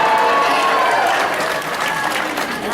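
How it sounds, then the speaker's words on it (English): A conference audience at a Nashville talk claps together in dense, sustained applause that stays loud across the whole stretch. "Can you guys give me a round of applause?"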